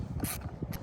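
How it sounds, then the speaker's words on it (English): A bolt with a washer being screwed down by hand to fix an auxiliary light mount on a 2021 Ford Bronco, giving short ratcheting mechanical clicks close by with no talking. "and go ahead and screw it down right here."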